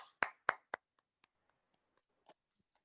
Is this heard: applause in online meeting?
yes